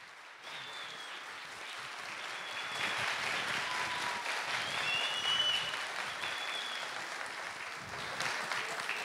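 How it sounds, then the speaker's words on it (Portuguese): An audience at a hypnosis show applauds, steady clapping swelling a little and holding, with a few faint whistles over the crowd noise. "uma salva de palmas para os nossos astros!"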